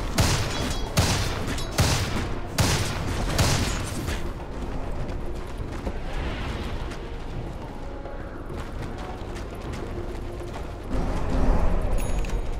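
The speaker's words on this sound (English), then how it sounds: "Radiant's top tower is under attack." Combat clashes and impacts from a Dota 2 match as Radiant's top tower comes under attack, dense, continuous bursts of hits and blasts, loud and close, with heavier strikes early on.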